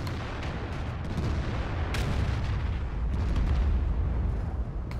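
Artillery fire in the World of Tanks game on the Erlenberg map, heard as a dense, continuous rumble of booming shell bursts with a few sharper cracks, loud and steady with no talking.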